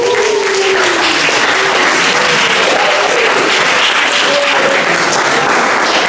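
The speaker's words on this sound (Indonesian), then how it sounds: "Kita berikan tepuk tangan." Dense, loud applause from a seminar audience fills the whole stretch, steady and unbroken with a faint murmur of voices underneath.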